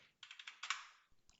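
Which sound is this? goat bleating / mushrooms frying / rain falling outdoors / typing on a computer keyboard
typing on a computer keyboard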